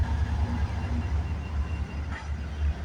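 CPKC freight train led by KCS 8125 passing near the Kinnear Yard, a steady low rumble and rolling roar of the locomotive and cars, fairly close with no talk.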